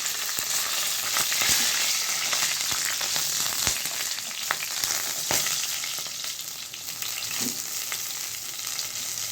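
Cumin seeds and three or four green chilies fry in hot oil for a shol fish curry, a steady close sizzle with intermittent crackles and occasional stirring clicks.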